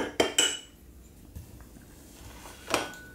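A scoop of Italian-style ice cream set down into a serving cup, with sharp clinks of metal and glassware at the start, a softer knock midway and another clink near the end, close and alone.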